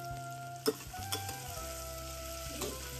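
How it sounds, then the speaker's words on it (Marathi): Chopped onion and capsicum frying in oil in a pan, a steady close sizzle with a few soft spoon knocks as the vegetables are stirred. "तोही आपण छान लालसर होईपर्यंत या तेलामध्ये फ्राय करून घ्यायचा."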